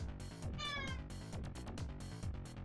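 A cat in the video game Dramatical Murder gives one clear meow over a busy, loud music track, close and fairly prominent.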